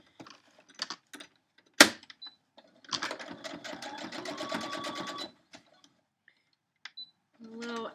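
Sewing machine stitching pieces of a Friendship Star quilt block, a steady mechanical whir of about two seconds between short clicks and handling noises, with quiet talk nearby.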